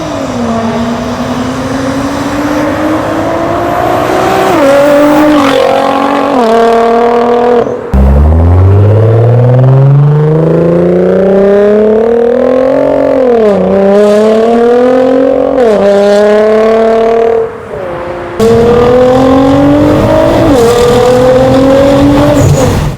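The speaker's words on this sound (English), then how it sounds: "we're going to be doing some sound testing with my new FI exhaust" Nissan GT-R R35 fitted with an Fi exhaust, revving hard and accelerating up close, its loud engine note sweeping up and down through repeated rising pulls with brief shifts between them.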